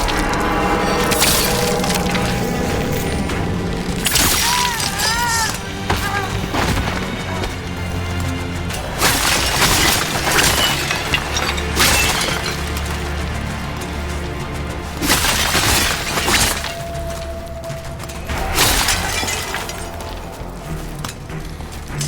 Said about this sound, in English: Shattering those chains will free the bell.